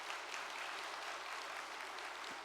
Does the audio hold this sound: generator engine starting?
no